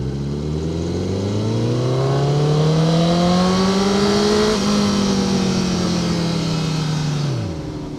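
A 2009 Honda Repsol CBR1000RR sport bike engine pulls loudly while riding, its whine rising through a gear, dipping briefly at a shift, then dropping away as the throttle closes.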